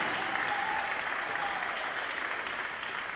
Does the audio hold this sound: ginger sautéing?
no